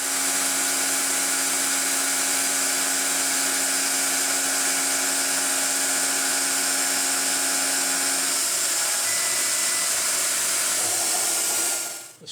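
A metal lathe takes a light skim cut on a workpiece held on an expanding arbor, giving a loud, steady high-pitched whine with a hum that changes partway through and cuts off abruptly at the end.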